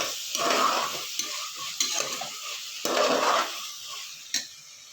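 Chopped tomatoes are stirred and fried in a pan for egg biryani. A steady, loud sizzle runs throughout, broken by repeated scraping strokes of a spoon against the pan, close up, with no talking.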